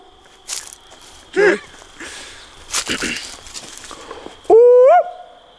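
Someone imitates a Bigfoot howl outdoors in the Appalachian woods, a loud rising and falling vocal howl that rings out near the end after brief talk and rustling from the group.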